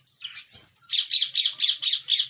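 Caged birds, pigeons and finches, give one brief call and then a run of six quick, evenly spaced bright squawks, close and clear with no talk.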